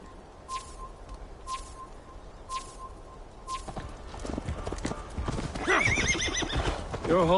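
A horse in Assassin's Creed Valhalla gives several whinnies and then a loud neigh over a run of clip-clopping hooves, with birds chirping faintly in the background.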